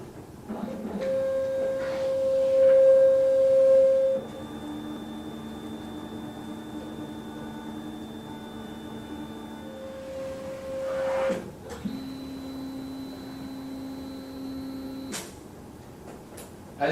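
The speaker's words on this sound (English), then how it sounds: "the printer has printed all of the black data in the label" A MAX Bepop CPM-200GU label printer hums and whirs steadily with tonal motor whines, pausing and shifting pitch between passes, with mechanical clunks at the starts and stops.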